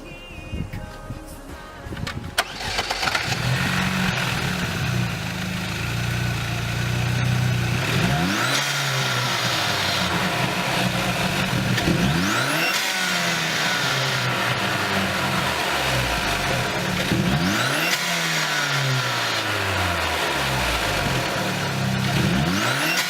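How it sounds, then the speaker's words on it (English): A Saab car engine, just fitted with a new intake, cranks and starts, then settles and is revved repeatedly in long rising and falling surges, loud and close with no talk. "Get the car to start and we're gonna test it out now."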